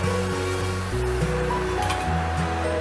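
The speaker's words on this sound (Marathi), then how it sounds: "थोडंसं पाणी ॲड करूया" Water is poured into boi fish curry gravy, a close, continuous rushing splash with some clinking at the pan, steady throughout.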